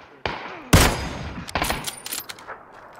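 Gunfire in a video game kill sequence: a sharp shot, then a heavy burst of rapid shots, followed by scattered sharper cracks and quick bursts that fade toward the end, loud and close.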